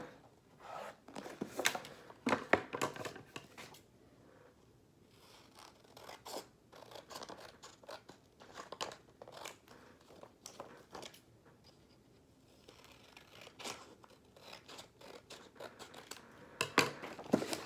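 Scissors or a blade cutting the sides off a box, a run of irregular snipping and scraping strokes, close and fairly quiet, with short pauses between bursts and no talking.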